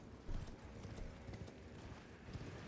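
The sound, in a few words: horse galloping hooves in video game Elden Ring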